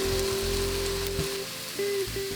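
Onions sizzle in a hot pan, the start of a German red cabbage dish, as a steady close crackle with a faint hum running beneath it.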